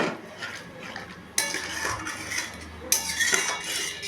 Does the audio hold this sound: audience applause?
no